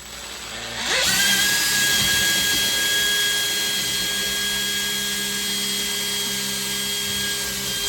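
A power drill bores a hole into the body of a Toyota Coaster bus, starting with a quick spin-up and then holding a loud, steady whining drone close by, with no talking.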